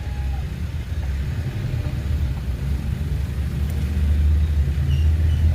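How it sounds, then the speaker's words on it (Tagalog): Road traffic heard from inside a moving vehicle: a steady low engine and road rumble, loud and continuous, swelling slightly toward the end, with no talking. "Traffic."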